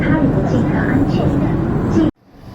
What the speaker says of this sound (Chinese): 我现在正在地铁5号线上